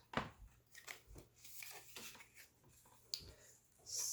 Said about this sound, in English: Let's cut our tabs.